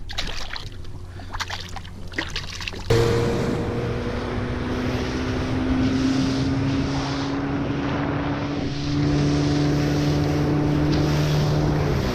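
A motorboat engine starts up and runs steadily at a loud, constant drone while fluke jigging in current, with wind buffeting the microphone throughout.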